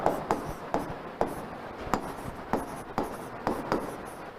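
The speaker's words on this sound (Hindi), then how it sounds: "मैं दोनों का नाम लिखता हूं" Chalk or marker strokes on a classroom board, heard as a steady series of sharp tapping scratches about every half second, fairly close with no talking.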